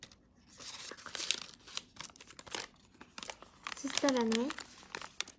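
Paper being folded and creased, producing soft crinkling and rustling bursts close by, intermittent under someone speaking quietly.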